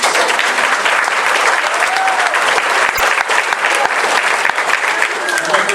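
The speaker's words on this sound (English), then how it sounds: "you can go ahead and applaud for them." Audience applause at a holiday band concert in New London, Iowa, a dense, loud, sustained burst of many hands clapping close by, continuous for several seconds.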